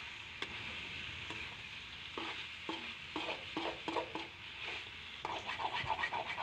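Country chicken gravy frying in hot oil, giving a steady sizzle broken by a series of scraping stirs from a spoon against the pan, close up and with no talk.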